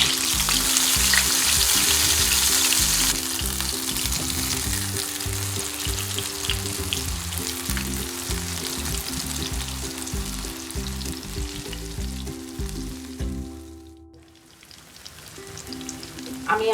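Eggplant slices frying in hot oil with spices over medium heat, a loud continuous close sizzle with stirring clatter that dips briefly near the end before resuming.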